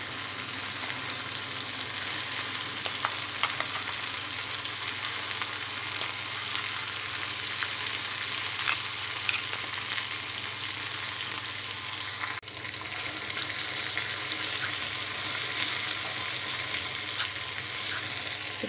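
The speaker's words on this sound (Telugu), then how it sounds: "తాలింపు ఫ్రై అయిన తర్వాత ముందుగా మిక్సీ పట్టుకున్న పచ్చడి వేసుకోవాలి" Ground mint and white sesame chutney sizzles and fries steadily in a hot tempering of garlic, dried red chillies and curry leaves, a continuous close crackling hiss with faint stirring and no talk.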